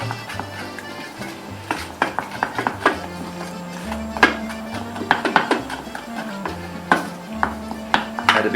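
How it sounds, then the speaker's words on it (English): A spoon clinks and scrapes around a pan as milk is stirred into bechamel sauce, with irregular close taps over a low, steady musical backing. "And stir it round until it goes."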